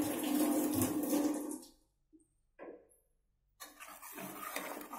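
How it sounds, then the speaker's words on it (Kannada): Water poured into a mixer jar, reusing rinse water while making a sambar paste in a home kitchen: a steady, close pouring splash for about two seconds, then near silence with small clinks, and the pouring returns toward the end. "ಇನ್ನು ಸ್ವಲ್ಪ ನೀರು ಹಾಕ್ಕೊಳ್ತೀವಿ."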